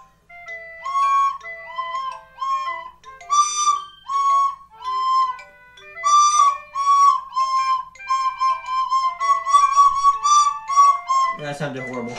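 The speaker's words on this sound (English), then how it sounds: "That was the recorder I have." A recorder is played in a longer run of clear, piping notes, first steady and separated, then quicker and more crowded, with a voice breaking in at the very end.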